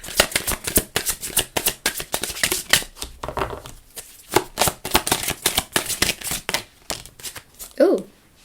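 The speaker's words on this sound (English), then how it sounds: "let me just shuffle these cards" A deck of tarot cards is shuffled over and over, giving quick close riffling and slapping bursts in an uneven rhythm, and a brief voice sounds near the end.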